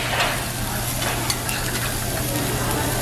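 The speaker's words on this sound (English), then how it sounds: "Damn, you hear that sizzle?" Thick pork belly sizzling on a Korean barbecue grill in a restaurant, a close, continuous crackling hiss with steady intensity and small pops, no talking.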